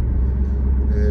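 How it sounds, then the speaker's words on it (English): A car driving on Sunset Drive in Sunset, Florida, giving a steady low road rumble and engine drone from inside the cabin, with a faint whine near the end. "I'm driving on Sunset Drive"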